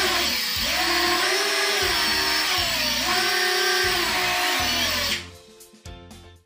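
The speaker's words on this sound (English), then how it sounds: "the motor is turning" Motors of a WST Shuttle-280 FPV racing quadcopter spinning up, a loud close whining drone with rising and falling pitch sweeps, then winding down with a few short spurts at the end.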